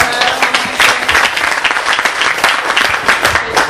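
A crowd applauds steadily at a Lega Nord political rally in Marano Vicentino, the dense, loud clapping running throughout.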